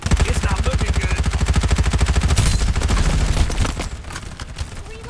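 Rapid automatic gunfire bursts loud and close in the video game Farlight 84, a steady stream of shots that tapers off toward the end while sparse, faint talk sits underneath.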